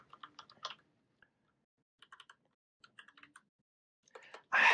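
Notes typed on a computer keyboard: quiet, close keystrokes in short, scattered bursts separated by silent pauses, ending in a louder, sudden thump.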